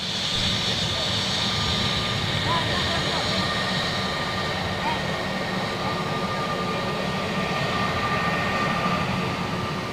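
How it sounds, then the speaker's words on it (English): High-bypass jet engines on aircraft at Manchester Airport, including a Dreamliner, give a loud continuous roar with a faint steady whine, heard from a moderate distance and unbroken throughout. "Look at those beautiful engines, man. High bypass."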